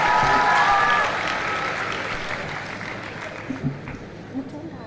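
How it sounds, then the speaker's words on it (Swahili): Applause for students at a girls' high school thanksgiving event attended by the president, a crowd clapping loudly at first, then fading into a softer spread of claps and murmur with a voice speaking over it. "Tuwapigie makofi tena."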